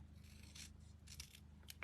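Close, quiet snips of scissors trimming material for a Christmas wreath, a few short cuts separated by a low background hum.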